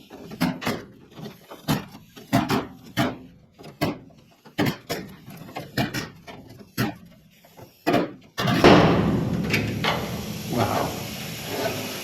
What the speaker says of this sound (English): I'm going to grab my air chisel because that's just going to pop off